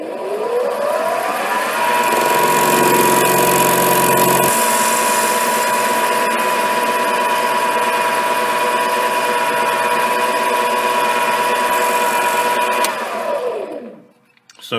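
A metal lathe cuts a workpiece clamped in a four-jaw chuck, giving a loud, steady high-pitched whine with rumbling chatter early on, sustained for about twelve seconds before spinning down and fading out.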